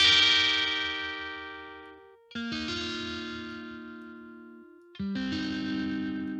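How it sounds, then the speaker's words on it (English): Heavily distorted electric guitar chords, produced in FL Studio, ring out three times, each struck loudly and left to sustain and fade, with no voices. "So we can add some distortion here."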